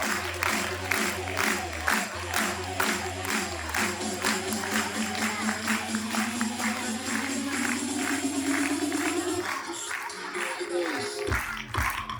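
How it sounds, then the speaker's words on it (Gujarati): Students clapping loudly at a school annual day event, a sustained roomful of rapid applause that carries on for several seconds, with music and a voice in the background before it tapers. "જોરથી વગાડો તાળીઓ."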